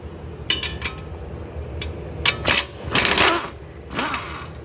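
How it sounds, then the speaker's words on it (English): Metallic clinks and ratchet-like clicking from bolts being removed at the bottom of a shock absorber on a 2019-or-newer Ford Ranger, in short irregular bursts close by, with brief pauses between. "let's take these bolts out of the bottom of the shock"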